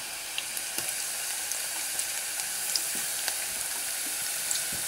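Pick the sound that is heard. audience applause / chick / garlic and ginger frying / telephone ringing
garlic and ginger frying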